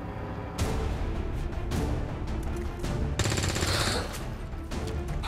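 Bursts of gunfire from XCOM 2: War of the Chosen, with a sharp shot near the start, another burst around the middle and a dense, sustained volley toward the end. The shots are loud and close, over a steady game background.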